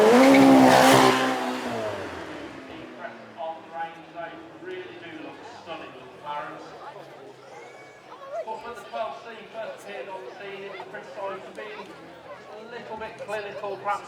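A McLaren supercar on a track at a supercar weekend, a loud pass at the start fading away, then distant engine and tire noise beneath nearby crowd chatter and talking.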